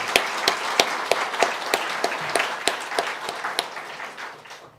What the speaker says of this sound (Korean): 먼저 우리 하나님 앞에 감사 박수 한번 올려드릴까요?